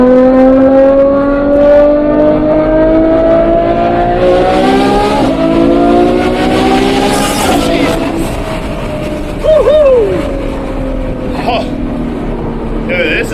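A Ferrari F12's V12 engine revs repeatedly, its rising whine climbing and dropping in pitch. The engine sounds close and loud, with voices talking over and around it.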